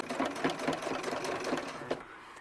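A sewing machine stitches fabric for a ball-jointed doll's hat, a close, rapid mechanical whirring and needle-tapping that runs steadily for a couple of seconds, then stops.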